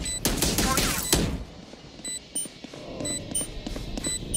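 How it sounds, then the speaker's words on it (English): A swarm grenade deployed in a tactical shooter game: a burst of sharp, loud gunfire-like pops and bangs up front, then quieter scattered clicks and high electronic beeps. "Placing swarm grenade."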